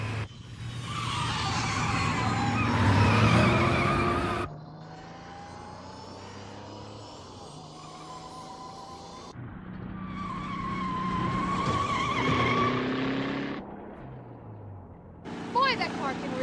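Herbie the Volkswagen Beetle speeds along with tyres skidding and engines roaring, loud and close, in long sweeping bursts that rise and fall over about sixteen seconds, with engine drone between them.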